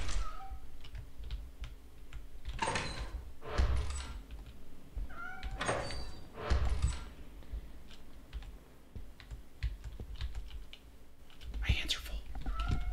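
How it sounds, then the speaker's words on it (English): A cat meows a few times inside the video game Lethal Company, short and fairly clear, amid keyboard clatter and soft clicks, with whispered talk nearby. "There's another cat."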